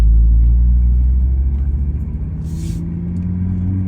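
Car engines rumble nearby at the Nürburgring Nordschleife in a steady, heavy low drone that swells slightly toward the end, like vehicles revving and pulling away.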